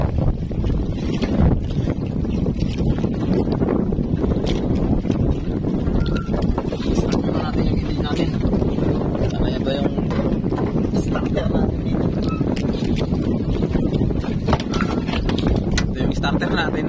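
A fishing boat's engine drones steadily on the open water during hand-line trolling. Wind buffets the microphone, and talk runs over the continuous motor noise.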